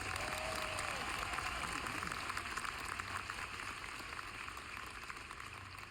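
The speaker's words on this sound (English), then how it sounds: "please have a warm Lifewave applause for all of the incredible leaders" An audience at a Lifewave business event applauds, a dense, steady wash of clapping heard at moderate distance, continuing evenly and fading slightly toward the end.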